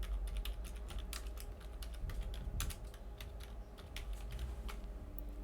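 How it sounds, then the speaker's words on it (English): Keys clatter on a computer keyboard in quick, irregular bursts of taps, close and fairly quiet over a faint steady room hum, with no talking. "While it's loading, we can just type"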